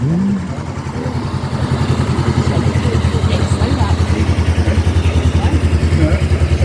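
A Honda CBR 500 motorcycle engine idles nearby with a steady rhythmic thrum that grows slightly louder after the first second, while people talk over it.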